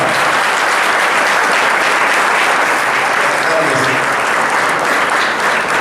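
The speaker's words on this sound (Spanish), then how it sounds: "Quiero que recibamos con un fuerte aplauso al rector, doctor Francisco de Vera Alvarado." Loud, sustained applause from a large audience at the opening of a university congress, welcoming the rector; dense steady clapping fills the whole stretch without pause.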